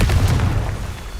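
A Confringo blasting spell explodes in Hogwarts Legacy as a single loud, close boom with a deep rumble that fades over about a second.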